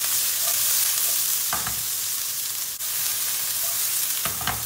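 Onions frying in hot oil in a pan give off a loud, steady sizzle close by, broken by a couple of short scraping stirs, with no voices.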